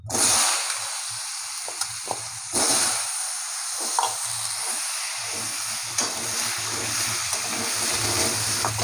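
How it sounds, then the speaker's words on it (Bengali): Potatoes fry in hot oil in a pan for a crab and taro dish, giving a loud, steady sizzle with occasional stirring and crackling bursts. "এবার আমি আলুগুলো ভেজে নেবো।"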